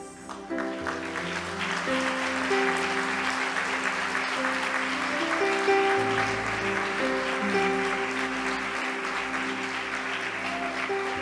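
A church congregation applauds, many hands clapping steadily and fairly loud over sustained organ or keyboard chords that shift in pitch throughout.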